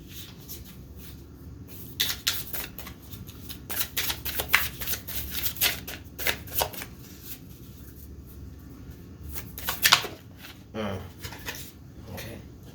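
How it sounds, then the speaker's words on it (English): Tarot cards being shuffled by hand, several crisp riffling bursts and soft slaps spaced a second or two apart, close and clear, with brief pauses and faint handling noise between shuffles. "I want to shuffle this real quick."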